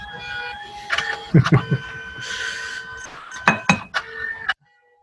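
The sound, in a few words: small photo printer printing a photo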